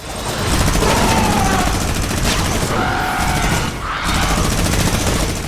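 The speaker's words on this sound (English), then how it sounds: "now let's try the minigun here" A minigun firing in Fortnite Save the World, a loud continuous rapid-fire roar that runs almost unbroken for several seconds and dips briefly once, with no voices over it.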